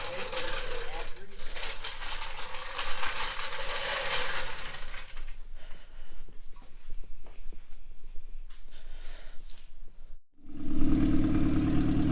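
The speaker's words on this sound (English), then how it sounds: "as you can hear, we got the turbo outside running" A turbocharged car engine runs outdoors with a rough, steady rumble and hiss, while people talk nearby; the sound cuts out briefly near the end before a louder droning tone returns.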